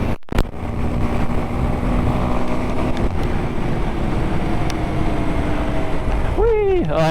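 A Kawasaki KLX230 dirt bike on dirt tires is ridden on a street at around 55 to 60 mph, its engine droning steadily under heavy wind roar, ending with a quick engine rev.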